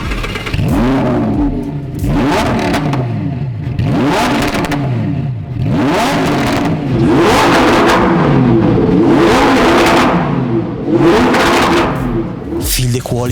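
A Lamborghini engine revs loudly in repeated bursts, each rise and fall of the throttle roaring up and dropping back, with a sharp final blip near the end; a voice speaks briefly over the revving.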